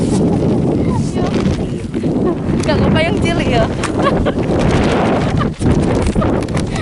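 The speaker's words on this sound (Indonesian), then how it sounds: "Puting beliung." Strong whirlwind gusts buffet the microphone during fishing outdoors, a continuous loud roaring rumble throughout, with a voice speaking over it.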